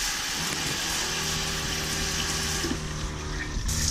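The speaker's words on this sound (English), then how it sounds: "You can hear the pump priming." A small water pump primes in a Sprinter van's fresh-water tank, giving a steady, continuous electric hum with a faint liquid gurgle, close by and without talk.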